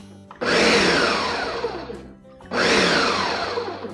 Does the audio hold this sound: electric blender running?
yes